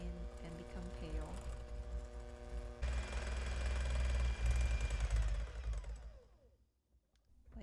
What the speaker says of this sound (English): Whisk with a hand mixer for about 4 to 5 minutes on high speed until they thicken and become pale.